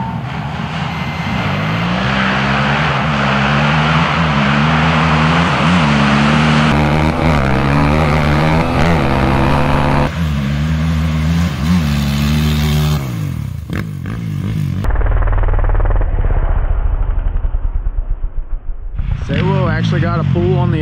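Budget quad ATVs, including a new Yamaha YFZ450R, roar through a drag race with loud, droning engines that rise and shift in pitch as they accelerate, with voices talking over the noise.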